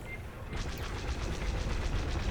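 Y-Wing ship guns firing in the space combat game Star Wars: Squadrons, a dense, loud, continuous burst of rapid blaster fire over a rumbling engine bed.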